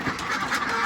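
Egg-laying ducks being fed rice on a farm let out a brief burst of nasal quacking, close by and moderately loud.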